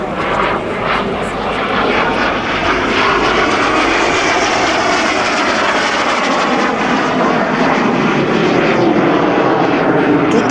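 A loud Fouga Magister jet roars overhead at an air show above Avignon, a continuous sustained engine rush that stays strong and steady throughout.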